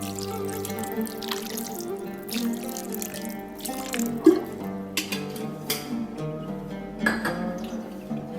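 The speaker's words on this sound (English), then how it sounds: "So we'll add some more water to this." Water poured into a pot of nihari gosht on the stove, a steady close trickle with dripping splashes against a background hum, without talking.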